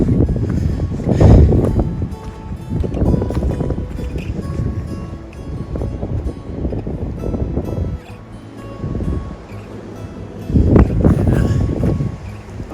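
Wind gusts on a cold mountain trail in the Appalachians, a steady roar of buffeting microphone noise rising and falling in strong surges, with heavier blasts near the start and end.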